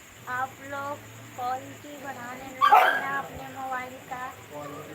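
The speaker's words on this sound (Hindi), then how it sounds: "देखो बहुत सारे कुत्ता भौंक रहे हैं यहाँ पर" Several dogs bark and yip in short bursts near a home, loud and close, beneath someone speaking throughout.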